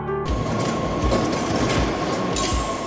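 A train pulls into a station in the VR game Hand Simulator, a steady rumbling roll with repeated rhythmic clatter of wheels over rail joints and a faint high whine, loud and close with no talking.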